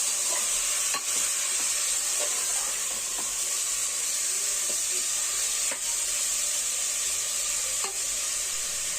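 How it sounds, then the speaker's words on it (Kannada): Mutton fries in oil in a pan, a steady bright sizzle that runs throughout, broken now and then by soft scraping clicks as it is stirred, with no one speaking. "ಮಟನ್ ಬಂದು ಎಣ್ಣೆಯಲ್ಲಿ ಚೆನ್ನಾಗಿ ಒಂದು 3ರಿಂದ 4 ನಿಮಿಷದವರೆಗೂ ಚೆನ್ನಾಗಿ ಫ್ರೈ ಮಾಡ್ಕೊಳ್ಳಿ ಇದನ್ನು"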